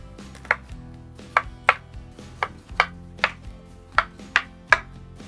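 Knife cutting through green banana peel on a board, a series of about ten crisp, evenly spaced chops, close and clear with no talk.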